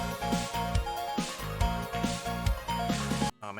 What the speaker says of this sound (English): But also, this isn't just regular piano, this is actually bit-crushed piano